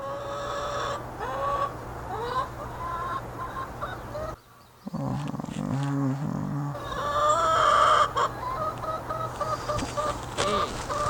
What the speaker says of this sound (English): the first type of noise that we get greeted with in the morning are hens that are irritated at being locked up and want to get out into their run